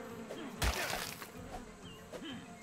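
Buzzing drone of a flying creature in the game ARK, a faint, wavering insect-like hum with a brief louder burst near the start, over low background game sounds.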